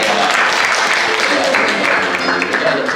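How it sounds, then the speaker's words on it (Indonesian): Congregation applause during a Sunday church service, steady dense clapping filling the whole stretch at close range, with voices mixed in underneath. "kasih tepuk tangan saudara."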